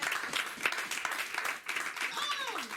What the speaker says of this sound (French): ça ne mérite pas une acclamation